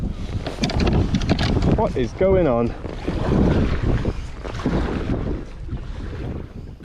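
Strong gusting wind buffets the microphone while kayaking on a swelling sea in summer, a loud rushing roar with a person speaking briefly over it.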